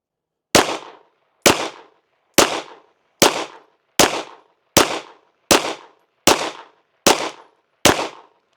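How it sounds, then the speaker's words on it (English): Ten evenly spaced shots from a SAR9 Socom pistol firing Remington range ammunition, each a loud sharp crack with a short decaying echo, spaced just under a second apart with silence between and no talking. "Let's shoot a group at the middle left."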